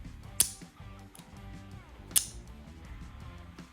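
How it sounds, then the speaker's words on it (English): A magnetic charger snaps onto a small rechargeable light twice, each a sharp, close click about two seconds apart, over quiet background hum. "this one has my favorite amazing feature, the magnetic charging. It's just so satisfying, just watch it."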